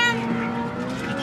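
A two-stroke boat engine on Oneida Lake near Sylvan Beach buzzes loudly and nearby with a rough, high whine that holds steady over a brief moment.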